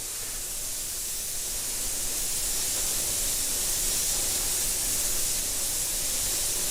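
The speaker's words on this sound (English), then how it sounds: "this time I'm just shooting Pearl Plum, again over base coat sealer dark" Steady broadband hiss of a spray gun laying Pearl Plum paint onto a car over dark base coat sealer, continuous and fairly close with no breaks or voices.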